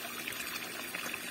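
A garden pump feeding a tap-mounted venturi oxygenator for a fish pond gives a faint, steady hiss of flowing water that pours continuously for about a second.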